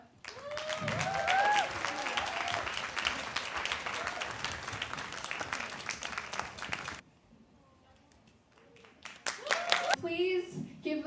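A crowd at a sustainable fashion show bursts into loud applause mixed with whoops and cheers, holding strong for several seconds before fading to scattered claps, then a voice speaks over renewed clapping.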